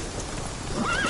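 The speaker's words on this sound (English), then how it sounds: "Come on, Roach" A horse in The Witcher 3 video game whinnies loudly and close, its rising neigh over a steady clip-clop of hooves, brief and with no talk.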